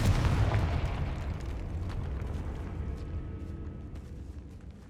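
Confringo spell explosions in the video game Hogwarts Legacy, with a loud booming blast up front that trails off into a rumbling decay and scattered smaller pops.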